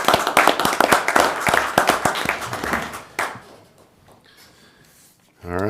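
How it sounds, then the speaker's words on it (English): A small round of clapping at a county board of commissioners meeting: a few people clap fast and close for about three seconds, the sound thinning out before a voice starts again. "A little round of applause for him."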